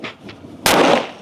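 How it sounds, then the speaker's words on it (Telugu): A Diwali tail bomb firecracker gives a few faint fizzing pops, then one sudden, loud, sharp bang that decays over about half a second. "ఇప్పుడు తోక బాంబ్ చూడండి"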